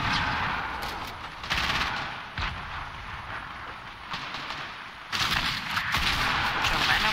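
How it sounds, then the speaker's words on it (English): Repeated gunfire bursts from a Fortnite Team Rumble match, sharp cracks and rattling volleys coming in clusters over a steady game backdrop, fairly loud and dense with brief lulls between salvos. "Some bitch is shooting"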